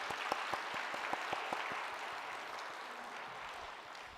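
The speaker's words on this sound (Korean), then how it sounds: "여러분 다시 한번 격려의 박수 해주시겠습니다" A church congregation at a Sunday service in Chuncheon applauds together; a few sharp claps stand out early, then the clapping settles into a dense, steady wash that fills the room to the end, with no voices.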